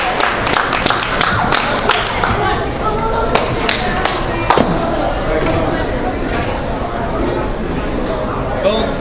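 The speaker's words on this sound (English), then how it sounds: "give him a round of applause." Audience clapping for a performer at an open mic night, sharp close claps scattered over a room of chatter, continuing for several seconds.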